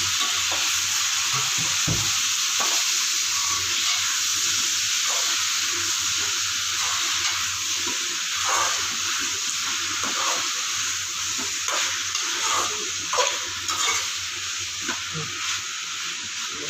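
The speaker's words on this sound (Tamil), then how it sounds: "நல்லா வதக்கி வச்சு இப்போ கறி போட்டுக்கலாம்" Chicken stir-frying with sautéed onions in a pan for Pallipalayam chicken: a constant loud hissing sizzle broken by rhythmic spatula scrapes and taps, with no voices.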